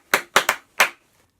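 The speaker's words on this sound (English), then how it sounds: "clap a part of a rhythm, and we had to respond with the end of it" A single person clapping a short rhythm with bare hands: four crisp claps, two close together in the middle, loud and close in a quiet room.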